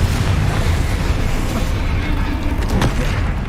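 A Confringo fire spell explodes in the video game Hogwarts Legacy, heard as a loud, dense low-end boom and rumble that fills the whole moment, with a sharp crackling burst near the end.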